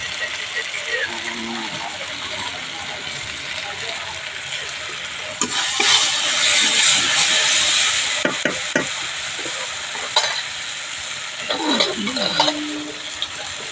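Whole spices and garam masala frying and being stirred in a pan, a steady sizzle with scraping spatula strokes that swell louder midway, while a person talks intermittently.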